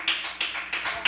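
A church congregation clapping in a steady rhythm, about six sharp, evenly spaced claps over roughly a second, close and fairly loud with no talking over them.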